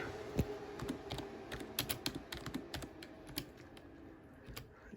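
Quick bursts of keystrokes clatter on a computer keyboard, fast irregular clicking that is close and fairly quiet, tapering off toward the end.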